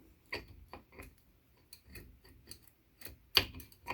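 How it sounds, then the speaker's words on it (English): A New Zealand Auto Knitter's cylinder is turned slowly by hand past the camshaft, giving sparse, irregular metallic clicks and ticks, close and fairly quiet, with a sharper clack near the end and nothing else in between. "I'm just going to turn the cylinder just a tiny bit past the camshaft so that I can get the other needles out"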